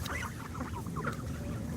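Geese up close give short honks and hissing calls in a brief, loud burst, with no talking.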